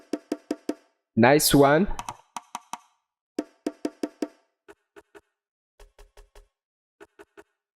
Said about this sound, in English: We have the bongo.